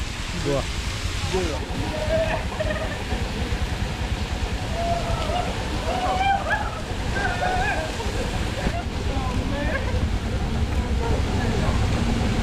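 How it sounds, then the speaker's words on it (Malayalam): Water from a waterfall pouring onto a road on a misty hillside, a constant loud rushing wash across the whole stretch, with people talking over it. "നല്ല കോടയാണ്, മോളിൽ വെള്ളം വീഴുന്നത്."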